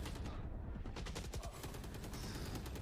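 Close, dense rifle fire crackles back and forth during a Valorant championship round, with overlapping rapid shots from several weapons at loud, steady volume.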